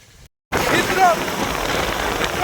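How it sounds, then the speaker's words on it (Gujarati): After a brief silent gap, dense rain patters loudly and steadily onto a hard surface, a close, even hiss with scattered drop hits. "ફૂલ વરસાદ આવે અત્યારે રોડ ઉપર"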